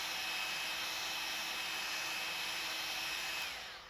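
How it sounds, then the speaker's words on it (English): A hot air gun heats a stuck scrap-vehicle axle glued into its bushing by hardened resin, producing a steady, close, whooshing fan roar with a thin whine that runs unbroken and then tapers off at the end. "It won't budge unless you heat up the axle with hot air."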